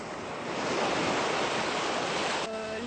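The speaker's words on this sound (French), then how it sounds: "Le bercement des vagues qui vont et viennent repose l'esprit et le corps." Ocean surf washes in a broad, steady roar that swells slightly and then eases off near the end, loud and close with no voices.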